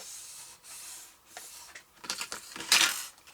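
Several light, sharp knocks of a ruler against a table while scoring a handmade card, faint and irregular, growing a little busier toward the end with a brief brushing sound.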